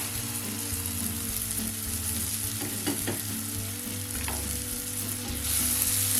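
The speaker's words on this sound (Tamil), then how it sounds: "அடுத்ததாக கட் பண்ணி வச்சுருக்க கொத்தவரங்காய் இதில் சேர்த்திடலாம்." Chopped cluster beans fry in oil with chilli powder, giving a strong, continuous sizzle close up with occasional clinks and scrapes of stirring.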